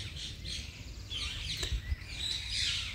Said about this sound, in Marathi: इथल्या पक्ष्यांचे आवाज